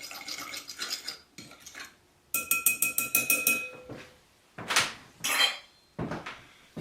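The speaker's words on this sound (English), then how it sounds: "I'm going to mix the milk, in this case the half and half, and the leaven up so it's a little easier to mix" Half and half being stirred into the leaven for naturally leavened brioche: quick rhythmic scraping and clinking of a utensil against a bowl in short bursts separated by pauses, close and crisp with no talking.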